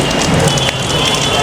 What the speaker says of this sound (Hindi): बारिश आने लग गई यार